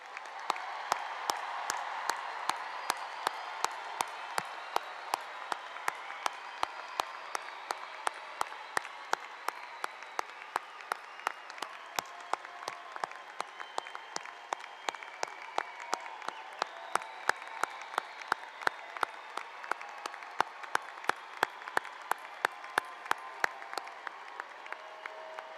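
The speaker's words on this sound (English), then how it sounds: "Would the audience please help in giving the class of 2016 a round of applause?" An audience at the Winston Churchill High School graduation ceremony gives the class of 2016 a long, even round of applause: dense, steady clapping from a large crowd that holds its level throughout.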